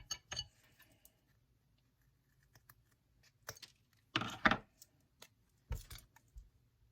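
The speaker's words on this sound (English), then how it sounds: "So I'm just gonna take a pair of scissors." Scissors snip a bassoon reed to trim its end, a few sharp, isolated clicks and snips close by against a quiet room, with the loudest cuts bunched near the end.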